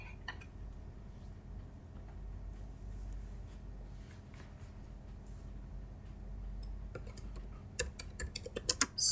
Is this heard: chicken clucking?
no